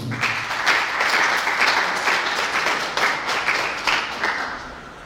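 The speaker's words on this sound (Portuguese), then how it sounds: "Então dê uma salva de palmas ao Senhor" A congregation gives a sustained round of dense applause at a church worship service, the many hands clapping loudly and steadily for about five seconds with slight swells, and no voices standing out.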